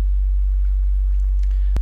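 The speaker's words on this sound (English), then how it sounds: "It's just simply a sine wave at about 60 Hertz, I believe." Loud, steady low hum of a roughly 60 Hz sine wave from a function generator, unbroken for under two seconds and ending with a small click.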